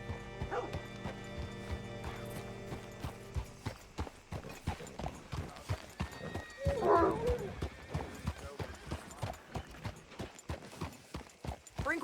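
Horse hooves clip-clop in the PS4 video game Red Dead Redemption 2, a steady rhythmic trot of close hoofbeats, with a brief whinny-like call partway through and faint background noises.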